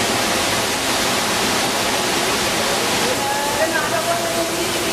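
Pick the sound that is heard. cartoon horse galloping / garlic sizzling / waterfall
waterfall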